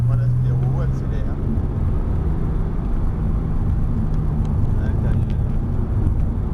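A Porsche accelerates around the Montlhéry circuit during a Pole Position driving session, its engine a loud, steady drone heard from inside the car beneath an instructor's spoken directions.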